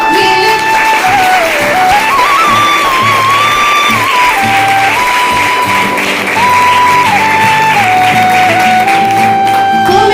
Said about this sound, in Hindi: ये तालियां मेरे लिए नहीं बजी है, इस प्रोडक्ट के लिए बजी है